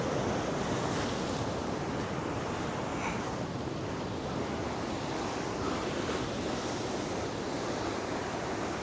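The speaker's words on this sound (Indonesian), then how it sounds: "Deburan ombaknya kenceng banget men." Strong ocean waves crash and surge continuously, a loud broadband roar of surf mixed with wind buffeting the microphone, with no voices.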